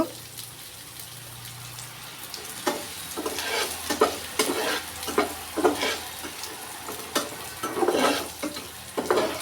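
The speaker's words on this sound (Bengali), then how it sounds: "এখন একটু ভালোভাবে একটু ভেজে ভেজে নেব। নতুন ফ্রাই প্যানে রান্না করছি।" Ingredients fry and get stirred in a new frying pan while cooking shahi malai tukra, with steady sizzling and repeated scraping strokes of the spatula at close range.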